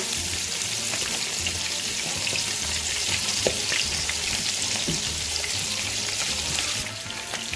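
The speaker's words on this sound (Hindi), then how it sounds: "इसको मैं करूंगी थोड़ा फ्राई और मसाले डाल के इसे मैं थोड़ा सा फ्राई कर लूंगी" A large piece of fish frying in oil in a pan, a loud continuous crackling sizzle with a few light clicks, steady throughout and close, no talking.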